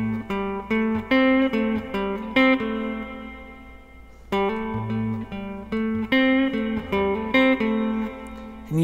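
Electric guitar playing the verse of a song, a steady rhythmic riff with hammer-ons and repeated chords, close and clear with a little effect.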